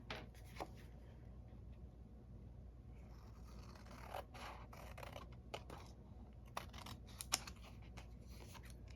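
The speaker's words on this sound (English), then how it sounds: "I'm cutting right along that basic white cardstock" Scissors cutting basic white cardstock at close range, a soft continuous run of small snips and scraping slices with a few sharper clicks, quiet and alone.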